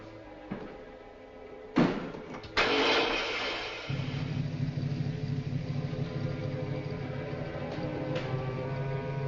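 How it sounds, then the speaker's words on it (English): A car motor cranks and starts after a couple of sharp door-like thumps, then settles into a steady, rough idle that runs on at an even level. "Start the motor."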